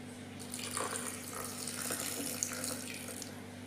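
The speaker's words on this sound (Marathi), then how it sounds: "मिक्सरमधून डाळ काढून घेताना त्यामध्ये थोडंसं पाणी टाकून घ्यायचं आहे" Water is poured into a mixer jar holding ground, soaked urad dal for dosa batter, a soft, steady splashing trickle lasting a few seconds over a faint background hum.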